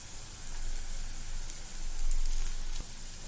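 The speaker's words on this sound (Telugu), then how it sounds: "నెక్స్ట్ మనం ఇందులో కొద్దిగా కరివేపాకు యాడ్ చేసుకుందామండి" Curry leaves frying in a pan over a medium flame give a continuous crackling sizzle that swells briefly partway through, close and steady with no talk.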